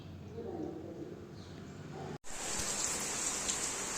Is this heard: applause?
no